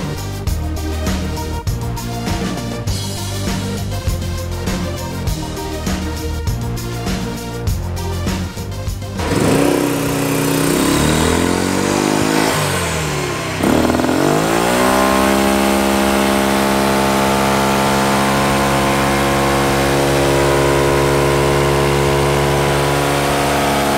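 A turbocharged Yamaha X-Max scooter engine, heard close and loud, first revving in quick repeated bursts, then roaring up through a long sustained pull with a rising whine.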